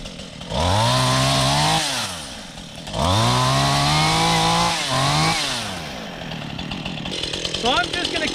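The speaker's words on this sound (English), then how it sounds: "He's got the chainsaw started up." A Stihl chainsaw cuts up a storm-fallen tree, its engine revving hard in two long, loud bursts with dips between them, then settling to a rougher idle. Someone talks briefly near the end.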